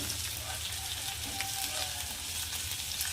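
Garlic frying in a pan for a spicy potato and eggplant curry, a soft continuous sizzle with faint stirring scrapes throughout, fairly quiet and unbroken.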